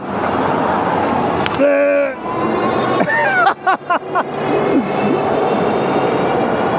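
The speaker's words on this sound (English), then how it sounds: "That motor is loud." A Freego F2 Plus 60V e-bike motor accelerates hard, giving a loud, steady rush with rising and falling whining tones that sweep upward in bursts before settling into a continuous roar.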